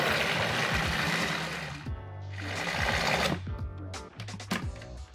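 A blender whirs through raspberry chocolate mousse batter, running loud and continuous, then stuttering in bursts and pulses as the motor load shifts toward the end.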